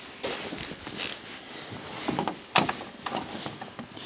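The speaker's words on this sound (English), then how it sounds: "just get the socket under there and get on there just to loosen it up first" A socket wrench loosens a headlight bolt on a 2008-2017 VW Tiguan, giving soft irregular ratcheting clicks and metallic scrapes at close range, fairly quiet with gaps between the bursts.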